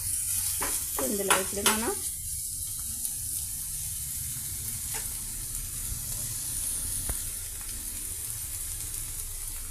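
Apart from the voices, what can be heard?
curry ingredients frying in a pan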